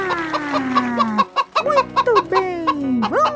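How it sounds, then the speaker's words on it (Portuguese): A chicken clucks loudly and close in a quick series of rising and falling squawks and clucks with brief pauses between bursts. "eu sou a galinha"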